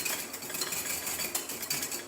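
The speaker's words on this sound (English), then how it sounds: "but when you whisk it" Egg yolk mixture whisked in a bowl, a steady fast scraping and clinking of the whisk against the bowl, close and continuous with small rhythmic accents throughout.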